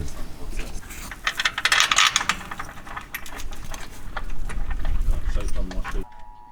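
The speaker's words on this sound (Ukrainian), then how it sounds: "закручуємо болти, зажимаємо" Bolts being tightened during servicing of a Pedrotti grain dryer: busy metallic ratcheting and clicking, close and fairly loud, over a steady background hum, cutting off abruptly near the end.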